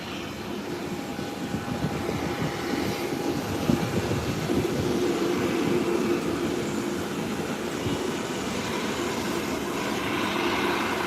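A Delta passenger jet from Washington, D.C. taxis to parking after landing, a steady broadband engine roar with a faint whine, continuous and moderately loud at a distance, no talking.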